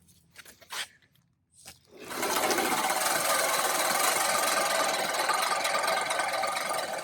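A Scotts Classic 20-inch manual reel mower rolls through grass, starting with a few rattling clicks and then settling into a loud, steady whirring clatter of spinning blades snipping, close by with no talk.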